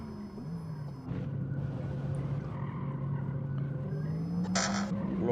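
A 2.5-ton Porsche Taycan Turbo S electric car drives in a racing video game, its motor whine rising and falling smoothly at moderate volume with a brief hiss near the end.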